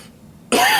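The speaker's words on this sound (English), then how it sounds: "I was hoping I could force the cough not to happen." A single sharp, close cough bursts out after a brief quiet moment during a beer tasting.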